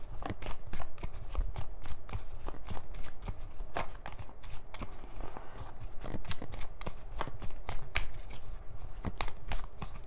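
A deck of cards for a 13-card draw is shuffled by hand, making continuous close riffling and flicking with rapid irregular snaps for several seconds.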